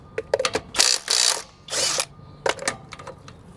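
A compact impact wrench removes car lug nuts in close, loud bursts of rattling hammering, several short and two longer ones, with brief pauses between.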